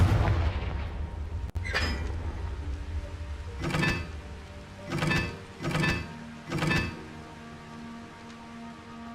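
Confringo blasting spells explode in Hogwarts Legacy: four booming blasts in quick succession after an initial sharp crack, each a loud, brief burst over a low game ambience.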